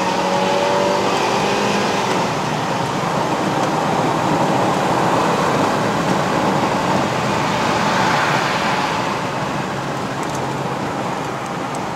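A 2013 Mazda CX-5 2.0L 2WD mid-spec climbing a hill road toward Genting, its engine a steady loud drone under broad road and wind noise, with a faint tonal whine early on and no clear talk.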